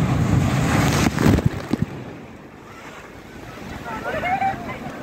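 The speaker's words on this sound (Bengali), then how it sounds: "পিছনে বিশাল বড় বড় ঢেউ আসছে।" Large sea waves rolling in at New Digha beach, a steady roar of surf mixed with wind buffeting, louder at first then easing, with a person speaking over it.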